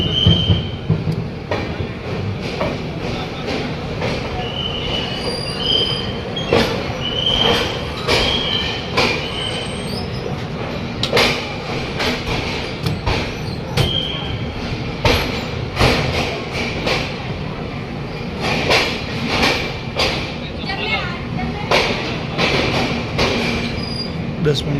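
Katra railway station platform with trains, a steady loud rumble of a train running and its wheels squealing, with thumps and clatter throughout and people talking nearby.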